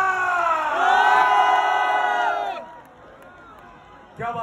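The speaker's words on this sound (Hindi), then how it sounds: "come on ladies and gentleman, जोरदार तालियां" Large crowd at Salman Khan's live show in Riyadh roars and cheers with sustained loud voices, the swell fading after a couple of seconds into a quieter murmur before another burst of shouting.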